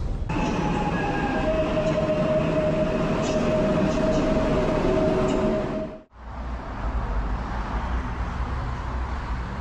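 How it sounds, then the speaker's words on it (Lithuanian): Train noise at Warsaw Central railway station, a loud steady rumble with a long high squeal of wheels on rails. It cuts off briefly near six seconds, then a lower rolling rumble carries on with no talk. "Štai Varšuvos centrinė geležinkelio stotis ir mano traukinys po valandos išvažiuoja į Liubliną."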